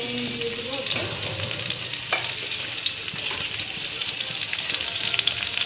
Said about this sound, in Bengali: এবার আমি পেঁয়াজটা দিয়ে দেবো। আর তারপরে দুটো একসঙ্গে আমি ভাজবো